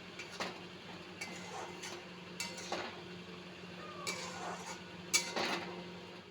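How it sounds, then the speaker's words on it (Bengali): Boiled soybeans and potatoes are sautéed in spiced masala for ghugni, with light repeated taps and scrapes of a spatula against the pan over a faint background hum. "এই কষানো মশলার মধ্যে আগে থেকে সেদ্ধ করে রাখা সয়াবিন এবং আলু দিয়ে দিলাম আবার একটুক্ষণ কষাবো"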